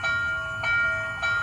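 An MTH Coast Daylight model train gives off a steady, tonal whistle-like sound with layered pitches. It swells in short pulses at a close, even level, with no talking.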